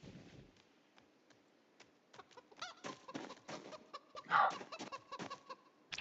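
A video-game chicken clucks in short, sharp bursts, a quick irregular string of clucks and one louder squawk, fairly near against an otherwise quiet background.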